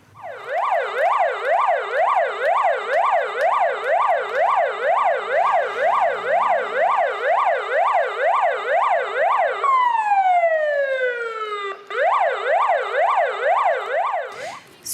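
A loud emergency siren wails steadily in rapid rising and falling cycles at the unveiling of a firefighters' monument in Ukhta, marking the fire and rescue garrison's 90th anniversary. It briefly winds down in a long falling sweep before resuming.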